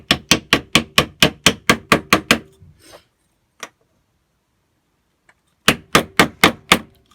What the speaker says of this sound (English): If I tap that in there with the mallet carefully,